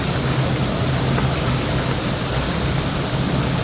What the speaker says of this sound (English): That's high speed. You can see it's moving a lot of water through that whirlpool jet.